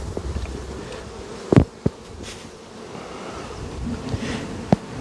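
Honey bees buzz densely around a brood frame lifted from a hive, a constant close drone with a few louder passes of individual bees flying near, and no talking.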